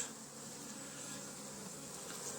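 Honeybees hum in a steady, faint drone at an open hive during apiary maintenance, with no voices over it.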